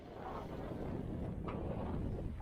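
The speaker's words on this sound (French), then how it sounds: "il y a du vent hein, quand même, il y a 15 nœuds de vent facilement" Wind of about 15 knots, force 4–5, at sea aboard a sailboat near the Egadi Islands, a steady broad rushing roar buffeting the microphone, loud and continuous with no voices.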